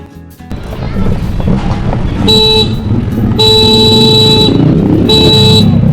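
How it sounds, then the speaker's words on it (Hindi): Short, loud scooter horn honks sound three times amid Pakistani road traffic noise and engine rumble. "ये देखे जी हॉर्न दे के अल्लाह के बंदो हट जाओ हट जाओ"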